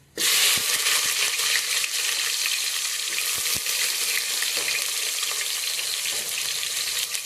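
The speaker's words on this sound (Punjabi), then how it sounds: "ਹੁਣ ਆਪਾਂ ਇਹਦੇ ਵਿੱਚ ਪਿਆਜ਼ ਪਾ ਦਾਂਗੇ" Onions drop into aloe vera frying in a pan, bursting into a loud, bright, continuous sizzle right at the start that holds steady throughout, close up with occasional stirring knocks and no voices.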